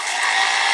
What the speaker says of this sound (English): You can hear the chainsaw.